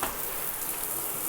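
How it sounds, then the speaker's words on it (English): A shower head spraying water during a home inspection, a dense steady hiss of falling spray heard close and unbroken. "using the shower head"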